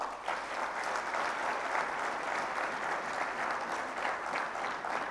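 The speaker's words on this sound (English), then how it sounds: "please give him a special round of applause" Summit audience at a Lahore management and HRD session gives Mr. Siraj-u-din Aziz a round of applause, a dense, continuous roar of many hands held steady for about five seconds, somewhat distant.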